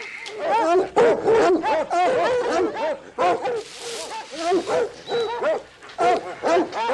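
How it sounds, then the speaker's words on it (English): Four hound dogs bark and howl close by in a dense, overlapping chorus of repeated yelps and drawn-out bays, continuing throughout. "you just became the proud owner of 4 howling hound dogs"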